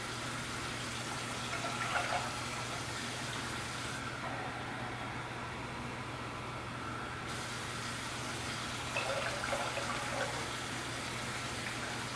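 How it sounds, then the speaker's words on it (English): Water pours into a sauce pot sitting on a stove, a steady loud gushing fill that runs throughout with slight swells in the flow. "We're going to add some water."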